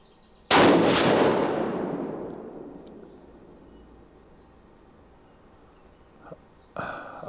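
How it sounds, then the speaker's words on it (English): A single loud .22-250 rifle shot from a Winchester Model 70 firing flat-base factory ammunition, a sharp crack followed by a long fading echo, then a brief faint clatter near the end. "Well, we'll see what it does with the third shot."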